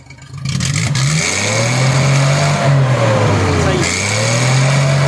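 A Suzuki car engine fitted with an HHO kit revs repeatedly, pitch rising and falling through several throttle blips, loud and close, with someone talking briefly at the start.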